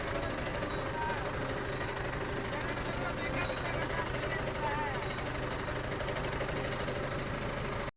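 A tractor engine idles and chugs steadily throughout, a continuous mid-pitched diesel rumble with slight knocking, heard close and unchanging in level.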